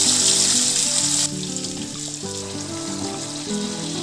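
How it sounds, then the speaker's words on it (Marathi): Onion puree hitting a hot pan with cumin, a loud bright sizzle at first that quickly settles into a steadier, quieter frying hiss, with faint music underneath. "आता कांद्याची प्युरी ऍड करणार।"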